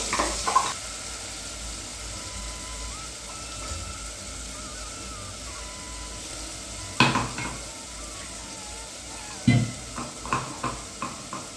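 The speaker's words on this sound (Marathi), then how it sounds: "जे आपण वाटण घातलेलं आहे ते चांगलं व्यवस्थित असं परतून घ्यायचं आहे" A thick ground spice paste sizzles quietly in a pan while a spoon stirs, with several sharper scrapes and clinks toward the end.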